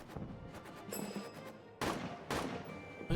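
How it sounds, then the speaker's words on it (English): Rapid gunfire in a World War I style trench warfare video game, bursts of broadband cracks and booms with a couple of louder blasts near the end, steady battle noise throughout. "Break through the machine gun fire."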